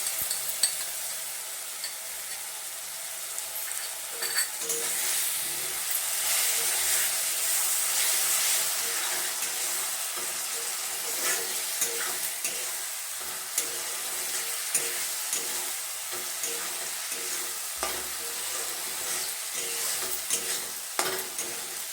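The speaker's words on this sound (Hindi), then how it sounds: "अब इसे अच्छे से फ्राई करेंगे।" Ingredients for egg baingan masala fry and get stirred in a pan over a medium flame, with steady close sizzling and hissing broken by repeated scraping stir strokes. There is no speech.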